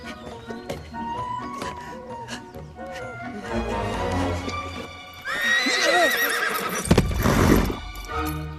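A horse whinnies loudly with a long, shaky neigh, preceded by hoof clops and snorting, close by and prominent.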